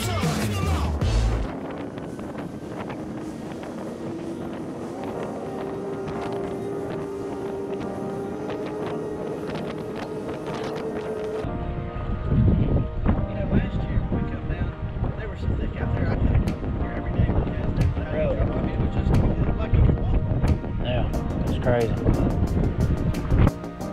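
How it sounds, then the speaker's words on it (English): Strong south wind buffets a small fishing boat out on the bay, roaring and rumbling in loud gusts against the microphone, with the boat's hum underneath and voices talking at times. "it's so windy coming out of the south"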